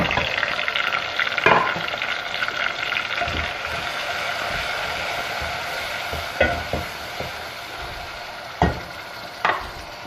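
Onion masala with tomato, ginger-garlic paste and spices frying in a pot for Lahori chana, a steady soft sizzle with occasional stirring scrapes and clinks, no voices.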